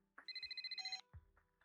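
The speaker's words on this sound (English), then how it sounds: "Phone ringing." A phone rings in the video game ZZZero: a quiet electronic ringtone of rapid repeated beeps in one short burst, followed by a few soft clicks.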